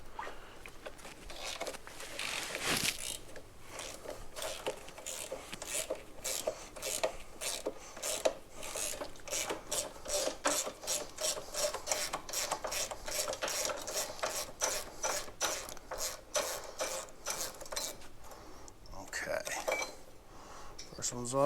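Wrench loosening bolts on a Yamaha TTR230 clutch cover, a long run of rapid ratchet clicks in close succession with brief pauses, close and moderately loud against quiet background.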